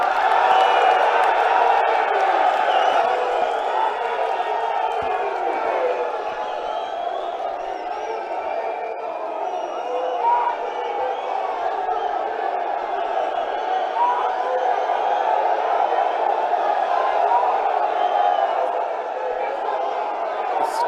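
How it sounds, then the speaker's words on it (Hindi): A large political rally crowd welcoming Rahul Gandhi with sustained cheering, whooping and shouting, a dense roaring wash of many voices that stays loud and continuous throughout. "जोरदार तालियों से सब साथी स्वागत करेंगे माननीय राहुल गांधी जी का"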